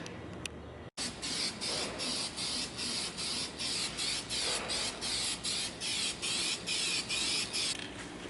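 Aerosol spray cans coating a car engine bay, repeated loud hissing bursts about a second apart with brief gaps between passes, close up and with no one talking.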